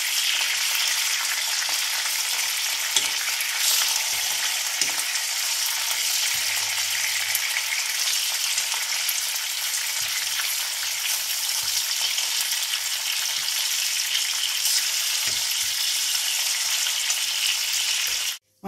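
Sweet peppers and onion fry in a pan with a steady, dense sizzle throughout, close and continuous, broken by a few faint clicks and no talking.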